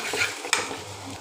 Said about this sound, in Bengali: এই যে চাউমিনে দেবো, এখানে ডিম ভাজা হচ্ছে